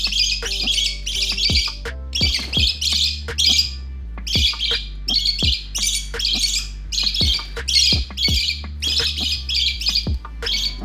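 Young budgies beg to be hand-fed with loud, close, repeated squawking bursts that come in rapid clusters, broken by short pauses over a steady low hum.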